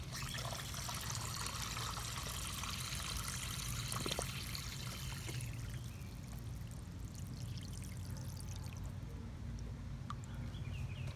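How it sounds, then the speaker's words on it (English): A saltwater pool pump drawing water from the skimmer basket, giving a steady, continuous rush of flowing water with a low mechanical hum underneath, even and unbroken throughout, with no voices. "we've started the pump, and right now we've got it just pumping from the skimmer basket"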